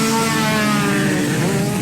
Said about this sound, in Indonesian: ada balap liar yang diikuti puluhan sepeda motor dimodifikasi